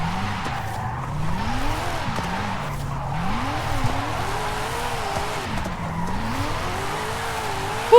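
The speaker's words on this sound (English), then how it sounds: "I have not drifted like this or felt any car drift like this in Forza." Mazda MX-5 Miata RF drifting in Forza Horizon 5, with a steady engine drone and sweeping, wavering tire squeals that rise and fall continuously for the whole stretch, loud and close with no talking.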